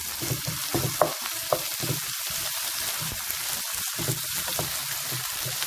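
Peppers and peeled tomatoes sauté in a pan with a steady hissing sizzle, broken by a few clacks and scrapes of stirring near the start.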